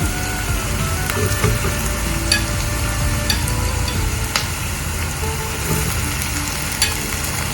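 Chopped tomatoes drop into hot oil with softened onions for a sardine chilli curry, giving a steady, close sizzle broken by light scrapes and clicks of stirring.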